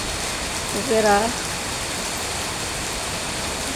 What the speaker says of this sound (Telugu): ఇంత గట్టిగా పడుతుంది వర్షం